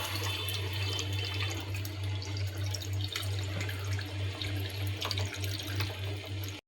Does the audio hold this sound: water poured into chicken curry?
yes